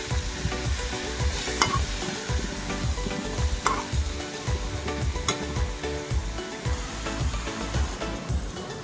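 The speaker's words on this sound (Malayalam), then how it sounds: "ഇനി അരിഞ്ഞ് വെച്ചിട്ടുള്ള വാഴക്കൂമ്പ് ചേർക്കാം. ഇവയെല്ലാം നന്നായിട്ടൊന്ന് മിക്സ് ചെയ്ത്" Chopped banana flower with curry leaves and dried red chilies is stirred in a hot pan, with a steady sizzle under rhythmic scraping strokes of a spoon, close and loud.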